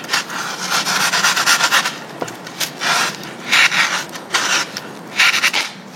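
Sand being stirred up until super hot, with ash mixed in, heard as close, loud scraping and rasping strokes in uneven bursts separated by brief pauses, no talking.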